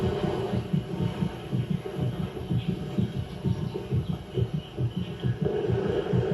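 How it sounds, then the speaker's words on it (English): A heartbeat sound effect thumps beneath a televised hug, loud and steady in a repeating double-beat rhythm over a low hum. "Oh, the heartbeats on Madison and Peter's hug"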